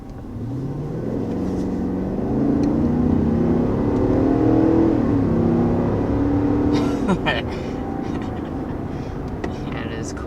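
2021 GMC Yukon Denali SUV with V8 and 10-speed automatic accelerating hard to 60 mph, a loud rising engine roar that climbs through gear shifts then settles, with a person talking over it.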